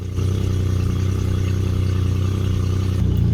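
The engine of a Michalak AF4 Grande skiff idles just after starting, giving a steady, loud, low rumbling drone with a faint clatter throughout.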